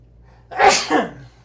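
A single loud sneeze close by, a sharp burst with a short trailing exhale, against a quiet low hum.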